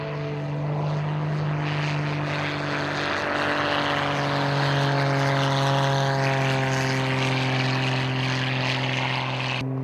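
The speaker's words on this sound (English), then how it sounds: "It's very hard to see under the nose of this aircraft, so he actually side slips to pick up the runway." A propeller aircraft side slipping on approach to the runway at an air race in Victoria, a steady droning engine hum with a strong tonal whine, close and loud throughout, with no talk.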